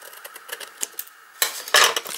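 Scissors trim the excess paper from a handmade stamped card, producing a string of small crisp snips and clicks, close and fairly quiet, ending in a few louder sharp cuts.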